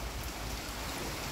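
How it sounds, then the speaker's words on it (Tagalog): Heavy rain pours steadily at a private resort in Angeles, Pampanga, a dense, even hiss of downpour with no voices. "dahil bumuhos yung malakas na ulan"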